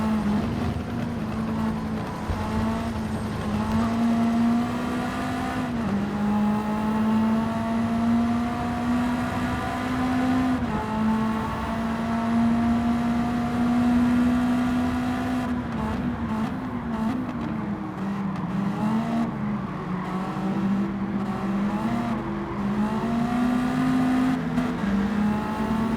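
Honda Civic RCR race car in Gran Turismo 7 on the Dragon Trail circuit, its engine holding a steady loud drone with rising and falling pitch through gear changes and corners, continuous and alone with no talk.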